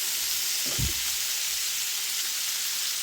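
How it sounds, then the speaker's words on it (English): Tomatoes hit a hot frying pan for chicken stew, raising a steady, bright sizzle that hisses evenly throughout, with a soft low thump as they land early on. "I'm just going to go ahead and put the tomatoes"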